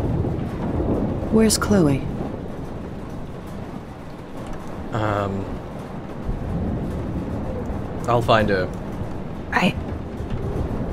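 Stormy weather in the video game Life is Strange, a steady wash of rain and rumbling thunder running throughout beneath several short lines of dialogue from characters.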